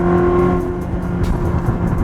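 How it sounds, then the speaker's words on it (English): A Ferrari 360 V8 with a valved performance exhaust runs with the valves closed, giving a loud, smooth engine drone that stays steady throughout the short stretch with light rises in pitch, no voices over it. "Still got good sound through the muffler with the valves closed, but not that raspy roll sound."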